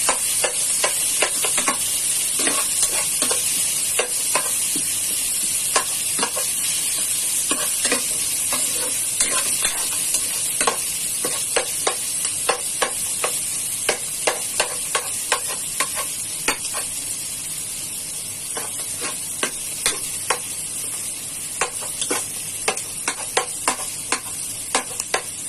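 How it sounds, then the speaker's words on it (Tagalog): Chopped garlic sizzles steadily in hot oil in a pan while being browned to golden for a Kapampangan-style sautéed mung bean dish, with frequent close stirring clicks of a utensil against the pan and no talking. "Hintayin lang po natin mag-golden brown ang ating bawang bago natin ilagay ang ating kamatis."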